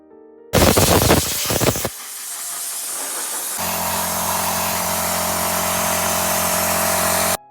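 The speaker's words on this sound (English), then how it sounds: "Then you'll see me air drying it with my air compressor." An air compressor blows a strong blast of air to dry a Griswold cast iron lamb cake mold. A loud, close burst of hissing gives way to a long, steady rushing hiss with a low hum underneath.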